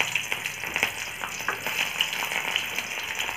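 Onion frying in about three tablespoons of hot oil for a Vidarbha-style potato and brinjal bhaji, a steady close sizzle with crackling pops throughout, no talking.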